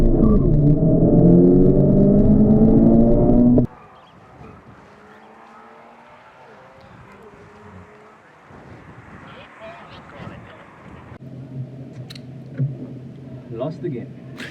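A Toyota GR86 in a drag race revs loudly at the start, then fades into a distant engine drone with a faint crowd and wind, with people talking over the later part.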